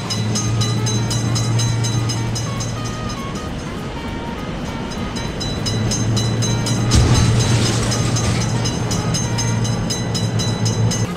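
A train passing a railroad crossing in a video game, a continuous rolling rumble with rhythmic clatter and a steady tonal hum, swelling louder toward the middle and end without any talk.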